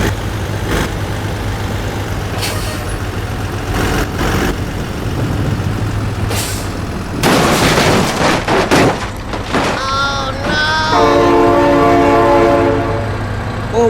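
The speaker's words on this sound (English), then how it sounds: "Oh my god, train!" A diesel train idles and rumbles past at a crossing in the BeamNG.drive game, with clanking bursts before a loud, sustained multi-tone horn blares near the end.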